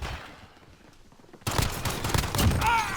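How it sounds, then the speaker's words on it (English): Machine gun fire in Call of Duty Modern Warfare starts abruptly after a quieter stretch, a rattling, sustained burst of shots that stays loud to the end, with no speech. "That was the machine gun."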